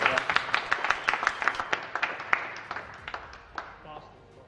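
A small crowd at a sim racing championship round applauds the top three finishers, crisp separate claps that start brisk and gradually thin out and fade, with someone speaking over them.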